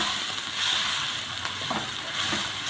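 Tomatoes fry in a pan for dhaba-style chana dal, giving a steady, fairly quiet sizzle with faint stirring scrapes.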